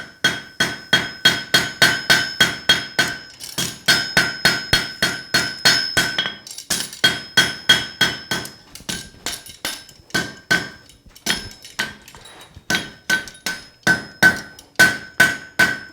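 Hammer blows ring steadily on hot steel at an anvil while a forged meat hook is roughed up, striking in fast, even bursts with short pauses, loud and close, with no talking.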